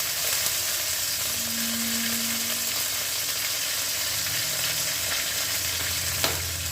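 Curry leaves frying in hot oil in a pan give a loud, steady crackling sizzle with occasional stirring scrapes, close and continuous with no talk.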